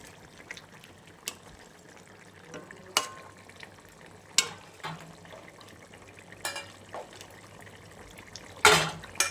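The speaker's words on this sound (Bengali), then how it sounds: "মাছের ঝোল প্রায় হয়েই গেছে, মাছটা দিয়ে দিচ্ছি।" Fish pieces slide into a simmering Bengali fish curry (macher jhol), with soft bubbling and a low, steady sizzle broken by several sharp splashes and stirring knocks, the loudest burst coming near the end.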